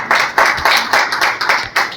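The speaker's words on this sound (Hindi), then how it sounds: "कृपया जोरदार ताली से" An audience at a World Book Day program claps loudly and steadily, a dense run of hand claps in rhythmic surges with no voices over it.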